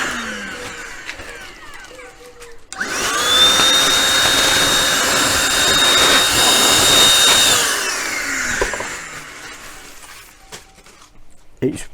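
A cordless spray gun run as a handheld air blow gun in a workshop gives a loud, sustained high-pitched whoosh lasting about five seconds, rising sharply at the start and tapering off at the end, with no speech.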